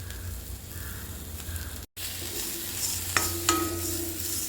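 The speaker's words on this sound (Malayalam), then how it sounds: "മുളകും നന്നായിട്ട് എണ്ണയിൽ നന്നായിട്ട് ഫ്രൈ ആയി" Chillies fry in oil with tamarind and salt in a pan, giving a steady close sizzle while a spatula stirs and scrapes. A few sharper clinks ring out near the end.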